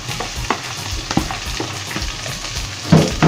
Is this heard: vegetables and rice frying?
yes